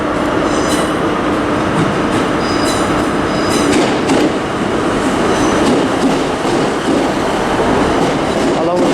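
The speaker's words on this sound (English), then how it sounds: "Coming in now is our train" A passenger train, a pair of Class 150 diesel units, pulls into a station in Exeter, loud and close with rumbling wheels, rail clatter and high squeals throughout, under faint background talk.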